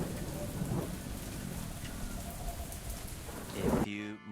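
Heavy rain pours steadily while a Splendor motorcycle rides through it, a dense close wash of drops on the surface that swells near the end before suddenly cutting out.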